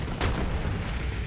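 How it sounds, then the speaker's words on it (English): A single heavy boom from a pipe bomb grenade in Borderlands 3 bursts early and fades into a rumbling tail, loud and close. "Come on, pipe bomb. Show them what you got."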